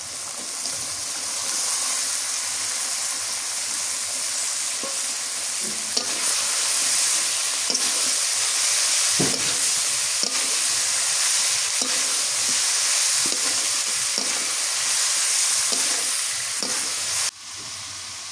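Pointed gourd pieces frying in a hot pan with onion paste, a loud continuous sizzle with occasional spoon scrapes and stirring taps, then a sudden drop in level near the end.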